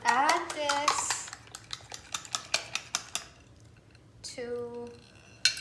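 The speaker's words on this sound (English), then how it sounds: "And whisk really, really good." A whisk rapping against a bowl as eggs are beaten with baking powder for a herb frittata, a series of sharp clinks and scrapes in uneven rhythm with a pause, close and moderately quiet.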